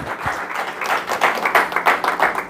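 A church congregation applauds, a dense sustained patter of many hands clapping throughout at moderate loudness.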